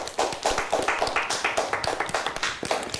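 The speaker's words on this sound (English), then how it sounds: "Let's give them a nice round of applause." A small studio audience at a televised quiz competition claps in a brisk, close round of applause that holds steady throughout.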